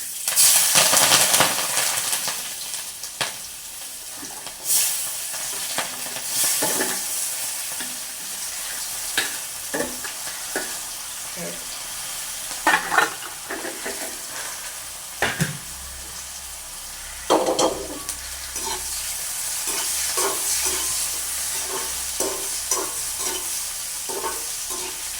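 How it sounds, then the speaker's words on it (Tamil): Onions and green chillies fry in a pan for a Jaffna-style jackfruit curry, a continuous crackling sizzle with repeated spoon scrapes and knocks against the pan, close up, with a brief watery rush midway and no speech. "நாங்கள் வந்து இப்போ வெங்காயத்தையும் பச்சை மிளகாயையும் நாங்கள் போட போகிறோம்."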